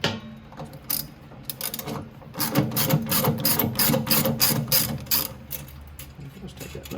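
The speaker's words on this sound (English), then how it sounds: "we'll want to remove the 3 7/16 nuts here that are holding the motor in" Ratchet wrench loosening 7/16 nuts that hold a vacuum motor in a Black Box vacuum, rapid clicking bursts in uneven runs, close and fairly loud.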